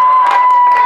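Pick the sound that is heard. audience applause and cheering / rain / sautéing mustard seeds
audience applause and cheering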